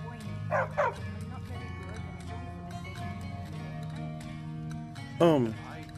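A dog in a Skyrim-based video game barks a couple of times early, then gives a louder single bark near the end, with a low droning game soundscape in between.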